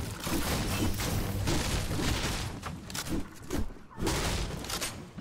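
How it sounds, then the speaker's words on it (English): Combat shotgun blasts in a video game, a dense run of loud booming shots with a burst of gunfire near the end, set against busy game noise. "I'm going to see if I can combat shotgun."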